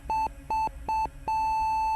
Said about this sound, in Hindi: रात में अचानक शिवम को ऑक्सीमीटर की बीप सुनाई दी